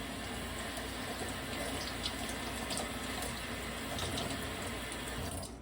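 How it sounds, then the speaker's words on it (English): Tap water running over hands at a kitchen sink during dishwashing, a steady close hiss and patter of the flow continuing without break. "you want to rinse off your hands as well"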